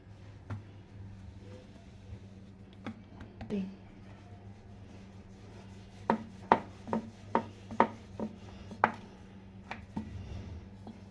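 Methi paratha dough being rolled out, with a run of rhythmic soft thumps and rubbing strokes near the end that follow quieter scattered handling sounds, while someone talks.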